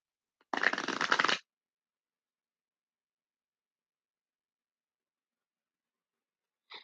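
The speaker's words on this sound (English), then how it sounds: "so I'm going to shuffle one more time and get your cards." Tarot cards shuffled once in a short, close riffling burst of just under a second, then quiet until a brief faint rustle at the very end.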